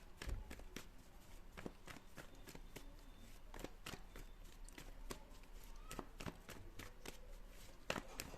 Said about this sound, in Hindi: जब तक मैं कार्ड निकालती हूँ